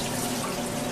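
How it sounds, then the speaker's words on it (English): Excess water is strained off rinsed basmati rice, pouring as a steady loud rushing splash with no pause and no talking. "we're going to strain off that excess water"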